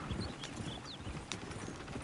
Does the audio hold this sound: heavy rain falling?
no